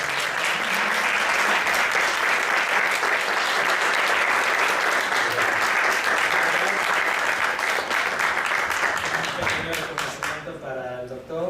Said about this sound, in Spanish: Muy bien, pues vamos a darle un fuerte aplauso.